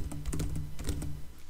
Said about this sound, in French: J'appuie à nouveau sur les touches.